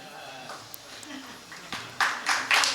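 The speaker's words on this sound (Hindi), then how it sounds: "ये ताली किसके बेटे के लिए बजाई आपने?" Listeners at a religious discourse break into applause, starting with a few scattered claps, then several louder bursts of clapping toward the end, while a speaker's voice is heard beneath.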